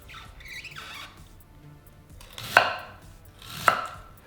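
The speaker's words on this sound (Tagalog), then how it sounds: "Pagdating sa labanos, hinihiwa ko lang ito ng manipis." A knife slices daikon radish thinly on a cutting board, giving two sharp crisp cuts about a second apart, with fainter scraping and handling sounds earlier.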